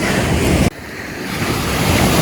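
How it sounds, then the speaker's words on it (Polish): Ocean waves roll onto a tropical beach in the Dominican Republic as a loud, steady surf roar with wind noise, broken by a sudden dip and then a quieter wash continuing; no one speaks. "W tym punkcie tutaj są najfajniejsze fale."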